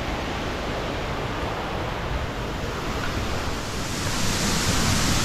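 A waterfall on a rocky Hong Kong stream gorge roars as a dense, steady rush of water, close and loud, rising slightly toward the end with no voices.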